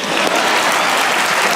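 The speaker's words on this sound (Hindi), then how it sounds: "फारूक भाई के ताली होनी चाहिए।" A studio audience on a Pakistani comedy talk show claps steadily, dense applause filling the moment with no voices over it.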